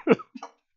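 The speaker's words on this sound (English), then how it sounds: "he's still even coughing a little bit" A man coughs in two quick, close bursts, then falls silent.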